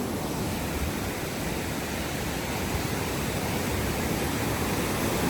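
Fast-flowing water rushes in a loud, constant roar, a dense broadband wash with no breaks, close to the listener and with no voices over it.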